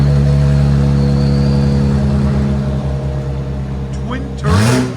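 Twin-turbo Mercedes-AMG C 63 4.0-litre V8 with blow-off valves, revving loudly up close, its deep steady drone rising into a sharp climbing rev near the end.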